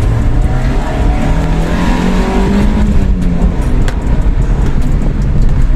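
A Honda car engine with a homemade exhaust system revs close by, a loud, continuous rumbling roar with rising and falling pitch.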